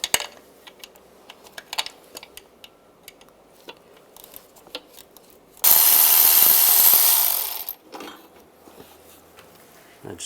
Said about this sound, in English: Take these two bolts off.